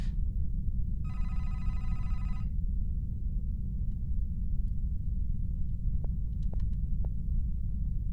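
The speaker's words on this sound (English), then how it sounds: "Which phone rang?" An old-style telephone bell rings once in a short trilling burst inside an indie horror video game, over a constant low ambient drone, followed later by a few faint clicks.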